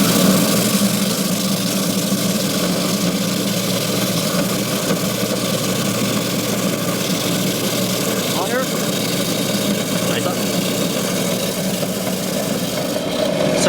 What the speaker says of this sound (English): So I'll start the bandsaw, kind of get my spot, and then we'll just keep applying steady pressure.